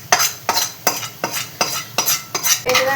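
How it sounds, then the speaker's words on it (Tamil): A utensil scrapes and stirs flattened rice (aval) around a pan in a steady rhythm of about eight close, crisp strokes, with no talk. "கட்டி இல்லாமல் நல்லா மிக்ஸ் பண்ணிக்கோங்க."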